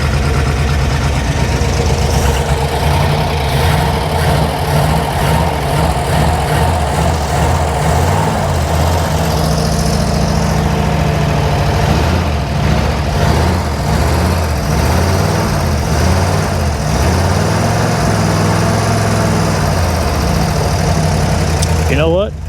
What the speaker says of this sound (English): If I keep my foot on the gas, it stays running.